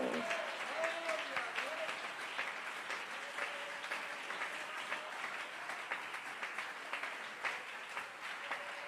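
A church congregation applauds steadily for the whole stretch, a dense, even wash of many hands clapping at moderate distance, with a few voices rising faintly through it.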